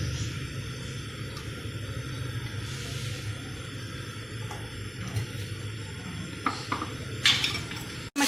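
Macaroni is stirred in a pot of boiling water, a low bubbling rumble with scattered metal clinks and scrapes of a spoon against the pot, close and steady.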